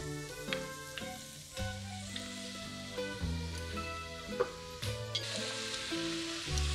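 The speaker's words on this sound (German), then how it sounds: "Dann gebe ich jetzt das Hackfleisch rein" Minced meat frying in a pan with glassy onions, a close crackling sizzle with sharp pops and spits at irregular intervals, no voices.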